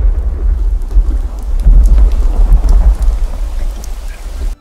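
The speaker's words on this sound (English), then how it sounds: "That is the sound of the oncoming storm." A loud thunderstorm in the World of Tanks video game, with heavy steady rain and deep rolling thunder that swells in the middle, with no voices.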